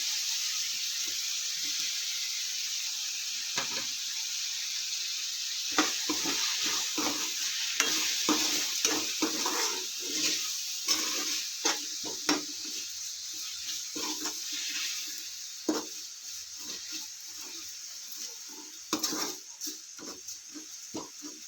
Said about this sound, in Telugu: ఇప్పుడు టమాటా వేసుకున్నాం